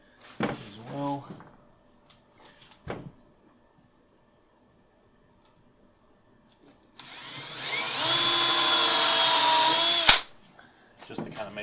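A power drill drives screws into plywood benchwork for an HO scale model railroad. A few brief knocks and handling sounds come first, then one sustained, close whirring drill run of about three seconds ends with a sharp clack.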